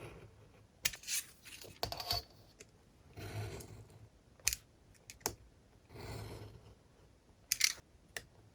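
Scissors cut a paper specimen tag with a window, making a scattering of quiet, close snips and clicks spread unevenly, with short silent gaps between them.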